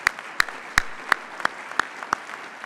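Audience applause for teachers at a community college event, heard as a sparse run of about seven sharp, evenly spaced claps that sound fairly close and stand alone with no talk.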